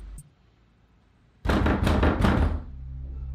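Loud knocking on a door, several rapid heavy raps in a burst lasting about a second, close and alone.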